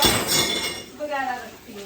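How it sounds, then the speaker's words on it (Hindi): Glasses and cups clink as they are set down, bright ringing chinks of glass and ceramic near at hand, with a resonant tone lingering afterward. "सबसे पहले ग्लास और कप रखती हूँ"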